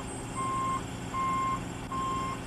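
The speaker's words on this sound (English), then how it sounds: "The operator releases the tractor parking brakes and begins to back up." An M1070 tractor truck backing up toward a semi-trailer, its reversing alarm giving three steady, evenly spaced beeps over a low idling diesel rumble.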